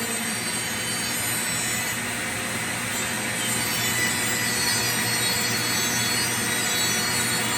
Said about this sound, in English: The wheel in the die grinder keeps on turning.